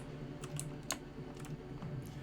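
Keys clack on a Razer BlackWidow V3 mechanical gaming keyboard, a few quick, sharp strikes in a short burst, close and fairly quiet, with no talking.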